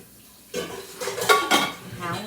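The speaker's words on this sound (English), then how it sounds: "if you hear a lot of noise, guys, it's because a lot's going on here today. My son's doing dishes." Dishes, pots and cutlery clatter in a home kitchen as they are washed, starting abruptly and continuing in busy, irregular clinks and scrapes with a few sharper knocks, fairly close and moderately loud.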